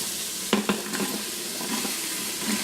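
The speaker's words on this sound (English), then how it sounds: "I'm going to add in now my celery and my carrots and my onions." Celery, carrots and a medium onion sizzle in about two teaspoons of olive oil in an Instant Pot, a steady close hiss broken by a few sharp knocks and scrapes of stirring near the start.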